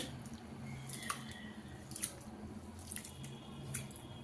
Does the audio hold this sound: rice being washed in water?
yes